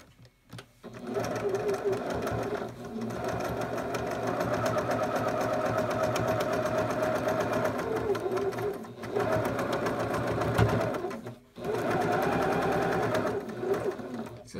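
A sewing machine stitches in long steady runs, a fast mechanical whir broken by a few brief pauses, close and clear.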